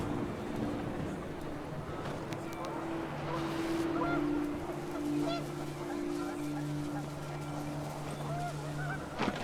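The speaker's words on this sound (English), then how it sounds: "The wind picked up, and panicked geese appeared and quickly went." In What Remains of Edith Finch, panicked geese honk repeatedly over a gusty wind, steady layered calls sustained across the scene at moderate loudness.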